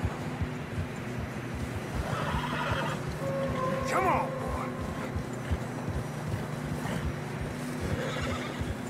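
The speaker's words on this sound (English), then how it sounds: "Horses are struggling." A horse whinnies mid-clip while struggling through deep fresh snow in Red Dead Redemption 2 on PS4, amid a steady whooshing background, with a voice speaking briefly over it.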